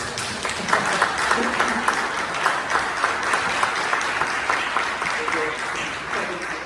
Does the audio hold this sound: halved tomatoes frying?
no